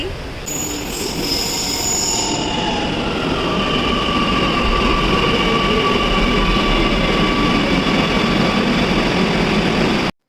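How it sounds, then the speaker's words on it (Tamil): A metro train pulls in with a loud rumbling roar, wheels screeching briefly at the start, then a steady rolling drone close by. "எங்களோட ட்ரெயின் வந்துருச்சு."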